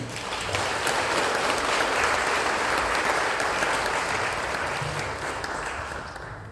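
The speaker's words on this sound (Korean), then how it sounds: "그럼 목사님 나오실 때 우리 박수로 맞이하겠습니다" Congregation applause welcoming a pastor to the stage at a Korean church service, a long continuous patter of many hands, steady and full before gradually thinning toward the end.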